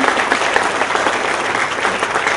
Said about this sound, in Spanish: Un fuerte aplauso, por favor, démosle valor para que pueda acompañarnos acá.